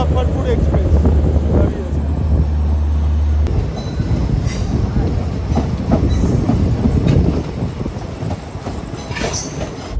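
Express train pulling out of Muzaffarpur at evening, a loud continuous rumble of wheels and carriages with rhythmic clatter and occasional squeals, heard from inside at close range.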